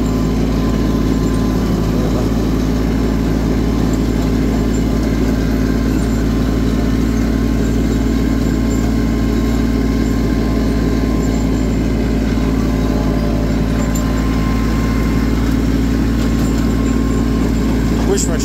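A tractor runs steadily with a 4-foot-wide rotary shredder mowing a 3.5-acre field, a loud continuous low engine drone with constant mechanical rumble and no pauses.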